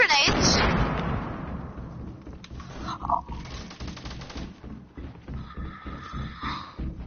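Grenade blasts and gunfire in a shooter game, a loud opening explosion followed by repeated rattling shots and bangs, with players talking over the combat.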